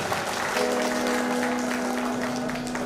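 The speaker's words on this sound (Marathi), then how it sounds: "जोरदार टाळ्या वाजवा, मोठा आवाज झाला पाहिजे." Loud audience applause at a stage event, dense continuous clapping from a large crowd with a steady tonal hum running underneath.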